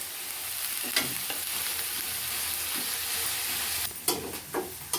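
Onion and cumin paste fries with curry leaves in a new pan, a continuous dense sizzle with occasional scrapes and stirring clatters, louder bursts near the end.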